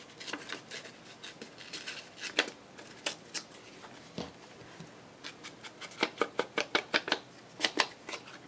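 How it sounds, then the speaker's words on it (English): Paper being torn by hand for an Easter card craft, a series of short crisp ripping and crinkling bursts, closer and quicker toward the end, with no voices. "I'm just going to kind of tear this off"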